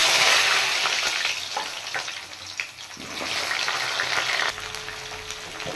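Cut taro and potato sizzle steadily in hot oil in a pan, with a continuous bright frying hiss and a few soft stirring clicks, and no talking.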